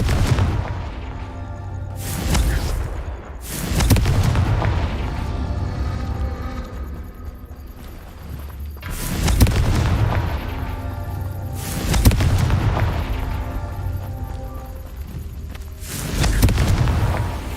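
Expelliarmus and Confringo spells cast in the video game Hogwarts Legacy, a series of loud booming blasts and impacts recurring every couple of seconds over a continuous rumbling battle backdrop.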